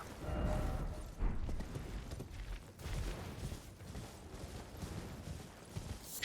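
A horse gallops in Elden Ring, rapid hoof clops and rustling mechanical clatter repeating steadily over several seconds, moderately loud with no talk over it.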